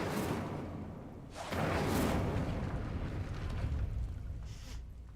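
A fire spell cast in the Hogwarts Legacy game: after a steady rumbling bed, a sudden roaring whoosh of flame swells and burns on for several seconds at close range, with no talking.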